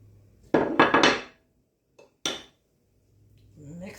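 Butter being mixed into a crumbly apple pie topping in a bowl, a short burst of scraping and clinking utensil strokes, then a single knock and a brief scrape, with quiet moments between.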